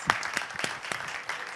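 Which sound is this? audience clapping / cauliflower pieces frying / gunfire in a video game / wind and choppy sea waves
audience clapping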